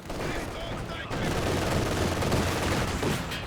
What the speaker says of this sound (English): Exchanging grenades in close range.